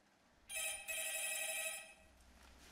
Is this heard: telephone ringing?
yes